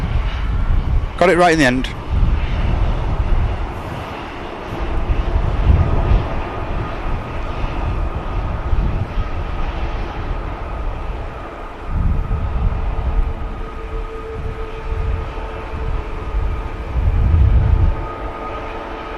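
Qatar Airways Airbus A350 arriving at Manchester Airport, a loud continuous jet engine roar with a low rumble, heard alongside intermittent talking.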